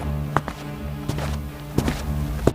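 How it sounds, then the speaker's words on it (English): Footsteps inside a house, a few sparse thuds and taps spaced unevenly over a quiet steady background, fairly faint and muffled. "this time he heard footsteps from inside."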